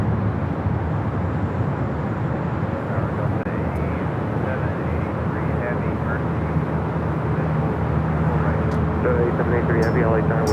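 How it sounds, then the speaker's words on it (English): Boeing 747 jet departing LAX, a steady broad engine roar from a distance, fairly loud and continuous, with a faint voice and occasional chirps in the background. "747 heading to Anchorage."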